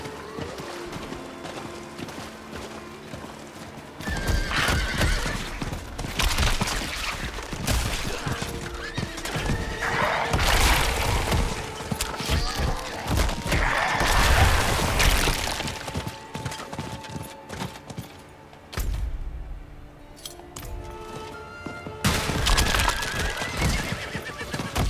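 In the action game Diablo 4, a horse charges with rapid clip-clop hooves, loud whinnies and neighs, and crashing, shattering impacts as it bashes through barriers, all loud and close over game sounds.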